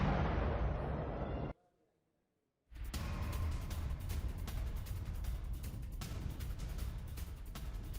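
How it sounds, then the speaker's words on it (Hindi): Explosions from a bombardment of a Syrian town in news footage: loud, rumbling blasts, then a short drop to silence, then another long stretch of dense, crackling detonations. "और धमाकों से दहला सीरिया का शहर, सीरिया के कारफा में भीषण विस्फोट"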